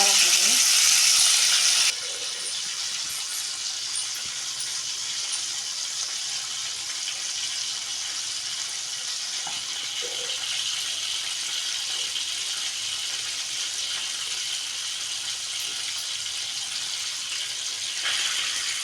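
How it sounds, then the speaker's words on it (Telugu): Fish frying in oil in a pan, giving a steady, continuous hiss and sizzle that runs throughout at moderate loudness, with a brief louder burst at the start and a few faint clicks. "ఫ్రై అయితే చేస్తున్నానండి."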